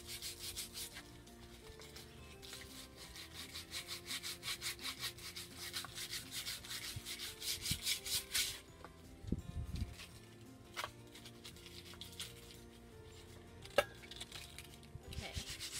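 A glossy hardcover book cover is sanded to distress it, with steady rhythmic back-and-forth rasping strokes close up for about eight seconds, followed by scattered softer rubs and light knocks.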